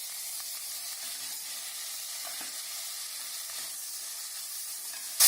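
Chopped onion and green chillies fry in oil in a pan for a Tamil Nadu style mushroom biryani, giving an even, steady sizzle with a louder clatter at the very end and no talking.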